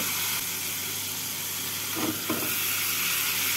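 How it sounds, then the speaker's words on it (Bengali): Fried pointed gourd pieces tumble into a pan of spice paste, and a loud, continuous sizzle swells briefly as they hit the pan and are stirred through. No one speaks. "এবার এর মধ্যে ভেজে রাখা পটলগুলোকে দিয়ে দেব"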